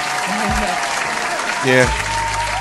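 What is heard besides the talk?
applause from studio audience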